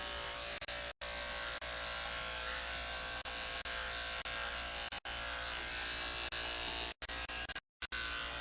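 Electric clippers shaving a dog's coat run in a steady, close buzz throughout, cutting out briefly a few times before starting up again.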